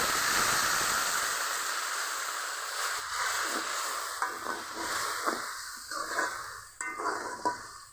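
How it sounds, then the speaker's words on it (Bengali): Spiced apples fried for chutney hiss in a pan as a little water goes in, a loud sizzle that gradually fades and breaks into softer bubbling and light stirring clicks. "এখন সামান্য করে জল দিয়ে সিদ্ধ করে নেব।"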